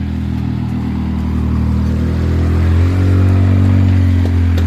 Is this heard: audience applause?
no